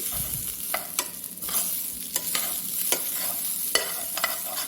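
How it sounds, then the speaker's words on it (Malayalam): French fries sizzle steadily in hot oil while a utensil stirs them. Regular, crisp scraping clicks punctuate the close, continuous frying hiss, with no talking. "ഒരുവിധം പാകിയൊക്കെ ആയിരുന്ന നല്ല സമയം വരുമ്പോൾ ഇങ്ങനെ ഇളക്കി കൊടുക്കാം"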